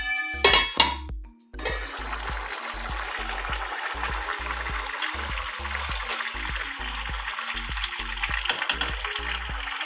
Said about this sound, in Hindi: चावल में चम्मच इस तरह हिलाना है,